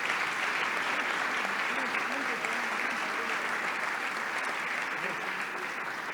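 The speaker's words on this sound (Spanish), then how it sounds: "Un aplauso grande." Steady, dense applause from a conference audience fills the whole stretch, loud and sustained, with a few voices faintly mixed in.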